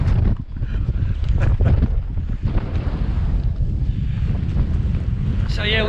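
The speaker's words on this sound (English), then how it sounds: "Well, the wind's picked up a bit." Strong winter wind gusts roar steadily across the microphone on an exposed mountain path up Pen y Fan, a dense rushing buffet with no speech over it.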